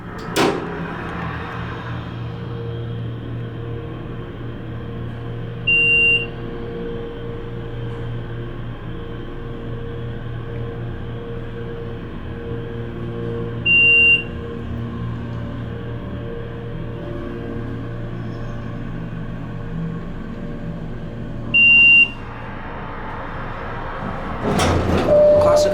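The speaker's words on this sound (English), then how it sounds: "Classic Otis leveling." An old Otis Series 1 elevator at a museum hums steadily with motor drone while running between floors, with three short beeps spaced evenly and a clunk of the car leveling and stopping near the end.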